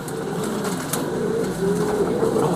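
Racing pigeons coo close by in a low, soft, repeated burble under a steady background rumble, with no talking.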